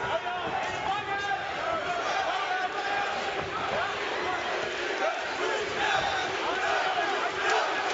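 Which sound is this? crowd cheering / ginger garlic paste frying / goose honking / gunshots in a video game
crowd cheering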